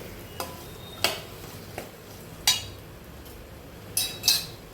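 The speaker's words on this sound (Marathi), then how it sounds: "हे पण 2 मिनिटं आपण छान परतून घ्यायचं मसाल्यामध्ये" A spoon stirs and sautés fresh cashew curry in masala in a pan, giving about six sharp scraping clinks against the metal at irregular intervals over a faint, low sizzle.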